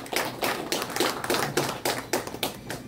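Audience clapping welcomes the artists at the opening of a solo invitational calligraphy exhibition at the Korea Art Museum in Insadong, heard as a steady run of sharp, close hand claps in an even rhythm with no talking.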